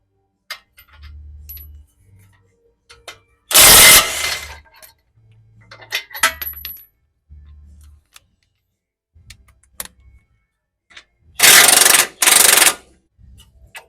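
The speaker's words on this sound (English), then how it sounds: "we're going to take the lower strut mount bolt out so we can drop the strut completely out" Lower strut mount bolt comes out of a 200 Series Toyota Land Cruiser during a leveling kit install, with two loud bursts of impact wrench rattle separated by metallic clinks, taps and low clunks in a quiet garage.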